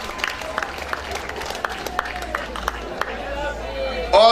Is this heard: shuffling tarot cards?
no